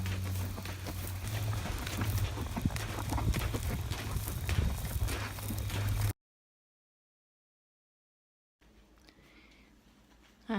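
A barrel horse walks with a steady run of hoof clip-clops, fairly close and continuous for about six seconds, followed by a gap of silence and then faint background sound.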